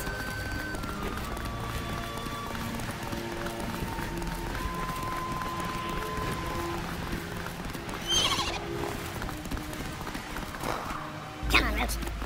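Roach the horse gallops with rapid clip-clop hoofbeats and neighs in The Witcher, steady under game music and ambience, with a louder whinny near the end.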